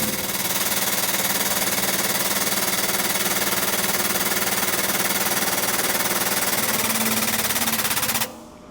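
A pneumatic air impact wrench runs continuously for about eight seconds, tightening during a front wheel bearing replacement on a Ford Escape; its steady, loud rattling hammer stays close and constant, then cuts off abruptly near the end.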